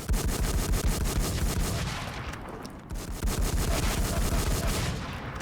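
Dense, rapid gunfire from a WarZ survival shooter game, a continuous loud stream of overlapping shots with a brief lull midway before the barrage resumes.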